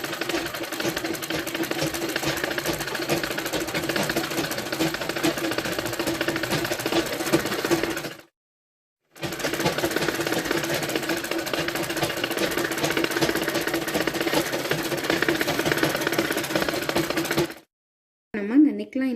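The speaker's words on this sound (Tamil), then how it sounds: "நம்ம இந்த நெக்லைனை சுற்றி ஸ்டிச்சஸ் போட்டாச்சு" Sewing machine stitching around the neckline of a blouse lining, a steady fast mechanical whir in two long continuous runs with a short pause between, close and fairly loud.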